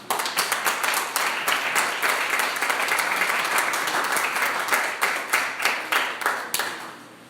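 Church congregation applauding during a Spanish-language sermon, a steady crowd clapping that breaks into a few distinct louder claps toward the end before fading out, with no talk over it.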